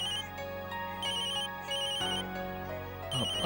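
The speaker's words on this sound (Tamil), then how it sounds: "அம்மா ஃபோன் பண்றாங்க." A phone plays a melodic ringtone for an incoming call, steady and fairly loud. The chiming notes repeat continuously, with no voices over them.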